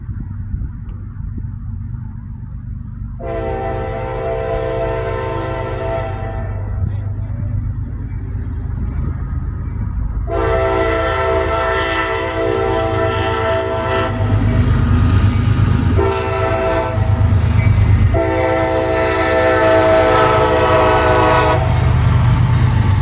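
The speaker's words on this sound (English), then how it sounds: "His first train would be CSX M565." A CSX freight train rumbles past close by, its horn sounding in several long blasts over the heavy rolling noise of the cars.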